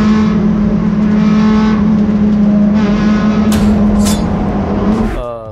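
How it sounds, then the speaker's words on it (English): A 1990 Mazda RX7 rotary engine idles close and loud with a steady droning hum, a few sharp blips in the middle, then the note drops and fades at the end. "Here we have our 1990 Mazda RX7."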